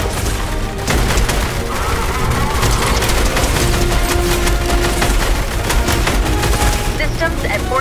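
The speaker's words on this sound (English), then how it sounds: "Incoming fire!" Gunfire during the Fortnite Collision live event: dense, continuous automatic shooting and booming impacts in a loud game battle soundscape, with character voices calling out over the din.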